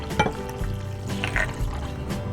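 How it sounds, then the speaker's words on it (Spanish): Cold water pours into dissolved gelatin in a bowl, a splashing, gurgling stream with a few sharp drips and clinks, close and fairly quiet. "Ya que esté bien disuelta la gelatina, agregamos el agua fría."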